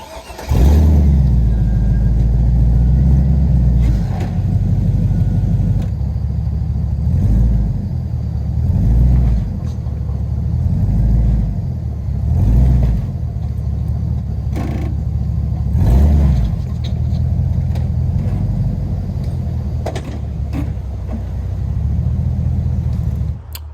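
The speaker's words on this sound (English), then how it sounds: "It was a storm last night and it didn't dry out, so tires are slipping." A car on wet ground after a storm, its engine revving in repeated surges while the tires slip, loud and close, with the low rumble rising and falling every couple of seconds.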